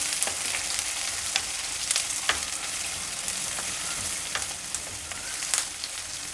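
Green chillies slit lengthwise frying in hot oil in a pan give a loud, continuous close-up sizzle, dense with fine crackles and pops throughout and no talking.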